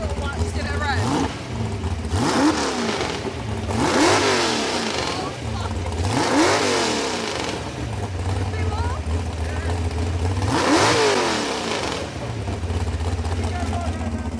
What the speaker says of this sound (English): Just give it a rev.